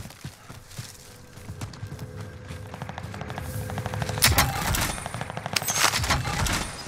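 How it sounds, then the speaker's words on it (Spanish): Distant automatic gunfire from a helicopter in Call of Duty: Modern Warfare rattles in quick repeated bursts, growing louder toward the end, with scattered single shots and a steady low rumble underneath. "De por allá está disparando también un helicóptero ese"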